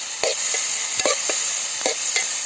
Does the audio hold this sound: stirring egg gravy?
yes